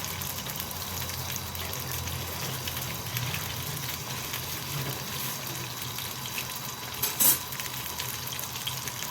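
Rice frying in a pan with a continuous soft sizzle, joined by a brief sharper clatter near the end.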